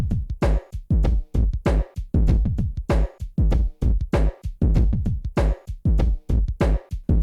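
The isolated GoldenEye drum loop from a sample CD plays alone as a steady, punchy pattern of sharp hits with a tight repeating groove that runs through the whole stretch.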